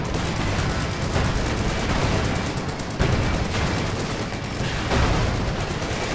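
Continuous battlefield gunfire with heavy cannon reports from a tank firing in Company of Heroes 2, loud and dense with a few sharper booms standing out, no talking.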